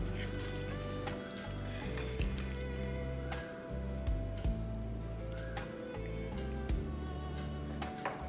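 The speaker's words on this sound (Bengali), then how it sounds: "এবার মশলা আর এঁচড় সব তেলে মিশিয়ে নেব।" Raw jackfruit pickle is stirred with spices in oil, giving soft wet squelches and scrapes with occasional clicks, close and steady beneath a low continuous rumble.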